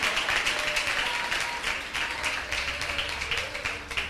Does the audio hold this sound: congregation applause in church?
yes